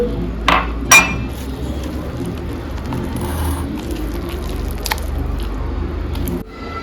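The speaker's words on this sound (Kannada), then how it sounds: "ನೀರು ಹಾಕಿ ಚೆಂದ ಮಿಕ್ಸ್ ಮಾಡಿಕೊಳ್ತೇನೆ" Gram flour batter with water, salt and cumin being mixed in a bowl: soft wet squishing and stirring throughout, with a couple of sharp clinks of the utensil against the bowl near the start.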